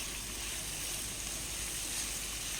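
Green chillies and chopped onion fry in hot oil for a creamy white sauce pasta, giving a steady, even sizzling hiss that holds without a break at a soft, close level.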